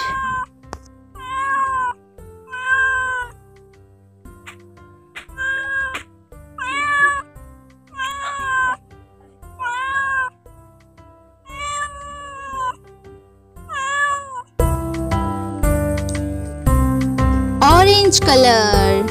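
A cat meows again and again, about eight clear, close, drawn-out calls with short pauses between them, followed by a louder, busier stretch of sound at the end.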